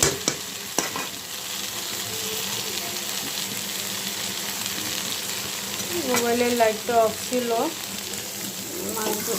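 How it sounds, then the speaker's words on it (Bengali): Potatoes sizzle in hot oil in a pan with a loud, continuous frying hiss, while a voice speaks briefly over the sound. "আলুটা ভেজে তারপরে মাছটা বসাবো আলুটা ভাজা বসাইছি"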